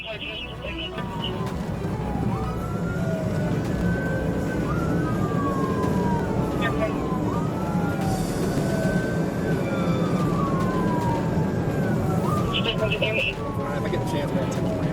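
A police siren wails in repeated rising and falling sweeps over steady road and traffic noise, continuous and fairly loud.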